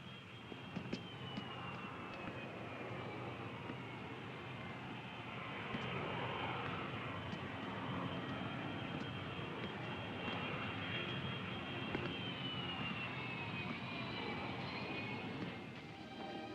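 A fixed-wing propeller airliner's engines drone steadily and loudly on a 1960s airfield at evening as the plane stands ready, a continuous broad roar with a faint whining tone, no voices over it.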